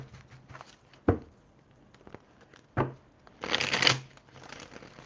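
Tarot cards being shuffled by hand, several quick riffling bursts and sharp snaps close up, separated by short quiet pauses, with a longer riffle toward the end and no talking.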